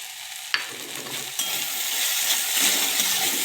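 Okra being stirred in a pan after salt is added: a sharp clink of the utensil, then a low frying sizzle that builds and scrapes along as the spatula moves, close and unvoiced.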